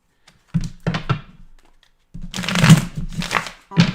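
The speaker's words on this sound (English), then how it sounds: "Let's do one more shuffle for you." A tarot card deck being shuffled and tapped: a few quick soft thumps and riffles, a pause, then a longer rustling, crinkling shuffle with a final knock, close and fairly quiet.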